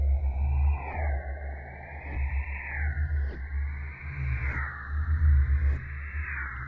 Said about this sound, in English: including low pass filter.